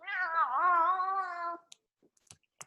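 A cat meows loudly and close by for about a second and a half, its long wavering cry rising and falling, during a home yoga session. A few faint soft taps and rustles follow in near silence.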